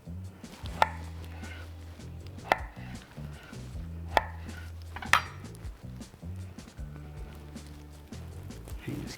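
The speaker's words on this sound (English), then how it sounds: "just gonna cut down two sides of the pear" A knife slicing down the sides of a fresh pear on a cutting board, four sharp knocks of the blade hitting the board spaced a second or two apart, heard close over a low background hum.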